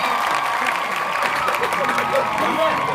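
A small group applauds at a tumbler pigeon auction in Ankara, a steady dense clapping mixed with crowd voices and chatter, fairly close and continuous.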